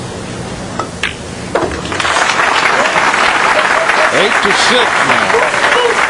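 A crowd at a pool match between Alex Pagulayan and Pham Tuan Ngoc bursts into applause after a few quiet moments and a short spoken line, the clapping then holding loud and continuous while a commentator talks over it.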